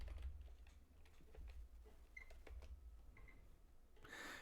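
Soft, irregular key clicks of typing on a keyboard, faint against a low steady hum, ending with a brief rustling burst.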